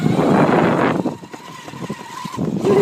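Optibike R8 electric bike ridden on twist throttle: broad wind and rolling noise up front, then a steady faint motor whine that rises and holds briefly before road rumble returns, with no talk.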